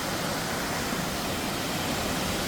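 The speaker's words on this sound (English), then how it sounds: "waterfall." Steady, broadband rush of a waterfall near Loch Ness, pouring constantly close by among rocks and tall trees, with no voices over it.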